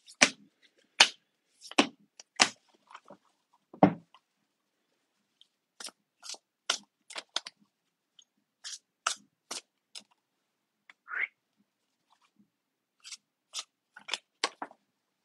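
Crisp riffling bursts of playing cards being shuffled, a quick series of short flutters and snaps spaced out with pauses, close and fairly quiet.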